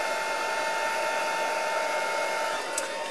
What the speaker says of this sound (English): I'm just going to bring in my heat tool just to make sure everything's about as dry as I can get it.